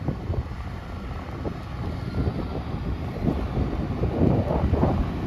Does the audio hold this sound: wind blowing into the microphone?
yes